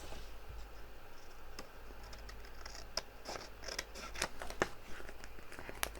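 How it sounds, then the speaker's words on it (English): Scissors cut out paper ephemera for an altered notebook, making quiet, close snips and sharp clicks that come irregularly over a soft papery rustle, with no talking. "So I'm going to cut that one out."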